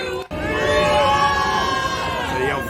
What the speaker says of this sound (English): they yell freedom, the crowd yells back freedom